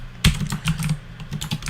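Quick bursts of keystrokes on a computer keyboard, close and clear, with one heavier key thump near the start followed by a rapid uneven run of clicks, no voice.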